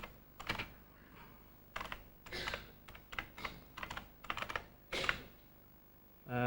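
Computer keyboard typing in bursts of rapid clicking keystrokes, separated by short pauses, close and clear with no talking.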